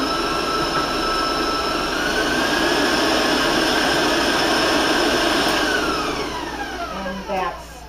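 An electric mixer beats mint cookie dough in a kitchen, giving a continuous close motor whine whose pitch slowly shifts as the speed changes, then eases off near the end.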